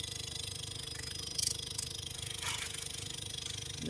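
Outdoor compressor of an LG air conditioner running in test mode, a steady close mechanical hum with a fine regular rattle and a few brief knocks, no talking.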